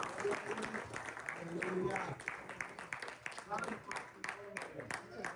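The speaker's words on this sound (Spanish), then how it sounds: "Una ofrenda de palmas al Señor por esto." Church congregation clapping as an offering of applause to the Lord during a Spanish-language sermon, a steady, moderately loud patter of many hands with voices mixed in.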